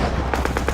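Rapid gunfire in a sniper war scene: four quick sharp reports in a fast rhythm over a dense loud rumbling battle background.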